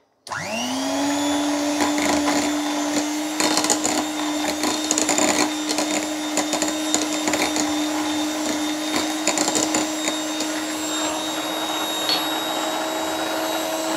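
An electric mixer stirs Japanese cheesecake batter after lemon juice is added, starting abruptly and holding a steady, loud motor whine with a constant pitch and faint rattling for the full stretch, with no speech.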